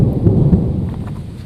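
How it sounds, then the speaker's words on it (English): Low, dense thunderstorm rumble with rain, used as a sound effect for a sensory VR pod experience, a steady, heavy roll that stays loud throughout with no voices. "There's a storm coming."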